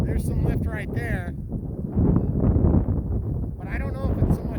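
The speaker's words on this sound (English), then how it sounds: "It's incredibly windy right now, guys." Strong wind buffets the microphone in heavy, gusting roars on a slope-soaring site while a person talks over it at moments.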